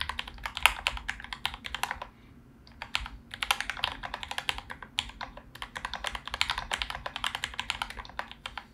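Steady, fast typing on a mechanical keyboard with Gateron yellow switches, a brass plate on a KBD67 Ref2 PCB and GMK keycaps, close-up crisp keystrokes in dense bursts with a brief pause, no talking.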